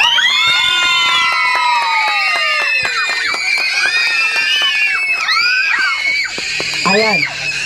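A crowd of children scream and shout shrilly at a first birthday party game, many overlapping high-pitched voices sustained loud and close, with an adult voice speaking over them.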